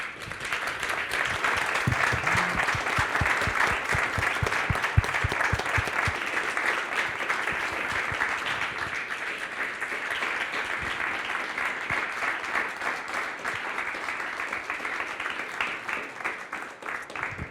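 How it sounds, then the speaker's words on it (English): A lecture audience at an architecture salon applauds its speakers, sustained dense clapping that runs evenly for many seconds and thins slightly toward the end. "So maybe I will ask you for applause for our speakers"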